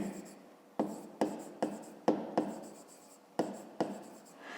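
A pen writes a maths solution by hand on paper, making a run of crisp, scratchy strokes with short pauses between them, close and fairly quiet.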